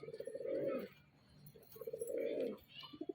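Pigeons wandering and pecking at grain give two close, low cooing calls in a row, separated by a short quiet pause.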